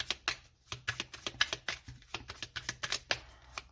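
Tarot cards are shuffled and handled in a quick series of crisp riffling snaps and slaps, about a dozen sharp bursts with brief pauses, close and alone.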